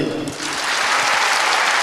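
A crowd at an awards ceremony claps in steady, dense applause, loud and sustained throughout the short stretch, with no voices standing out.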